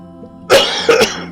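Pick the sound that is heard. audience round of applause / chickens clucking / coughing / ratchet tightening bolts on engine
coughing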